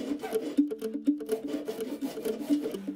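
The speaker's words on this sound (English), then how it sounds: "have to cut the slot for the saw blade into the saw handle" A crosscut hand saw cuts a blade slot into a wooden saw handle, giving rhythmic back-and-forth rasping strokes, close and moderately loud, with no talking.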